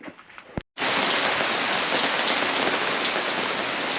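Steady rain pouring down in Washington in spring, a dense, even hiss of drops on surfaces that starts abruptly after a brief gap and continues loud and unbroken.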